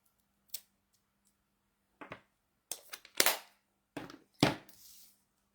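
Scissors snip a small paper banner, with several short, crisp cuts in separate bursts, close and quiet against near silence, including a quick pair of cuts for the fishtailed ends.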